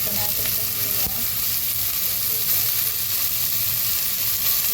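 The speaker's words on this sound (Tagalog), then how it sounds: "Lalagyan natin yung beef." Beef added to a pan with onion and garlic sizzles loudly and steadily, a constant close frying hiss with occasional faint clinks and no talking.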